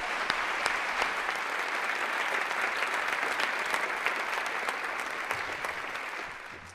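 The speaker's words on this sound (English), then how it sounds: "let's give them one more round of applause." A large audience at a State of the City address claps steadily and warmly, a dense sustained round of applause that holds for several seconds before easing slightly at the end.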